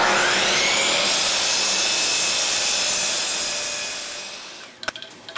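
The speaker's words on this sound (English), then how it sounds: "Over at the chop saw, I'm going to cut all 4 legs to length at 28 inches" A chop saw runs loud and steady while cutting wooden table legs to 28 inches, its whine holding for about four seconds before spinning down, followed by a few faint knocks.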